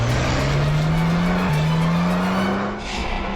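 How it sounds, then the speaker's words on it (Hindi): A car swings around in a quick U-turn, its tires holding a loud, sustained squeal whose pitch slowly climbs over engine noise before easing off. "पीछे यूटर्न लो ना और यहाँ दाईं ओर से निकालो गाड़ी, जल्दी"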